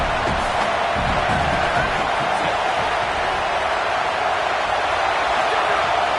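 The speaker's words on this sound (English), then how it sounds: "how nice is it to have the home crowd going absolutely bananas?" A home crowd at a football game roars and cheers continuously, a loud, dense wall of noise with no letup, punctuated by occasional louder bursts of whooping.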